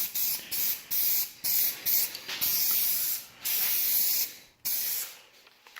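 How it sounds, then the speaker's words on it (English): Spray paint hisses from an aerosol can onto a Honda CBR 600RR motorcycle part in a series of short bursts of several seconds each, broken by brief pauses, close and fairly loud, with no talking. "Now this paint does come out pretty strong, so you definitely have to put on multiple light coats onto it, or it does seem like it likes to run."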